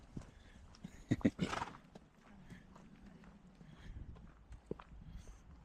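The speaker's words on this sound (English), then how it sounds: "Already seen our first horse." A horse on a Chiltern bridleway along the Ridgeway gives a faint, distant whinny and soft irregular hoof clops over quiet outdoor ambience.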